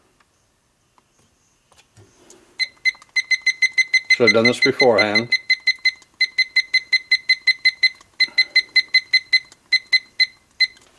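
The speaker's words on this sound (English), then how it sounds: "I've got my timer set for 40 seconds" A timer alarm beeps in rapid, evenly spaced pulses during heat pressing onto leather, starting after a few seconds and running steadily to the end with brief pauses, while a person speaks briefly partway through.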